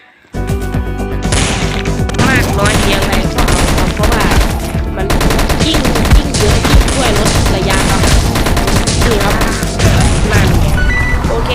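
Dense, rapid gunfire and heavy grenade explosions in the video game Zombie Warfare pile on top of each other with no pauses, loud and close throughout.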